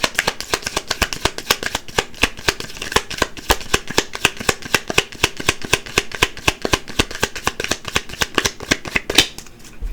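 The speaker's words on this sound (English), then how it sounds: "I'm going to pull from this deck and I'm going to pull from one more deck" A deck of tarot cards is shuffled close up, a fast continuous run of crisp riffling flicks that stops abruptly near the end.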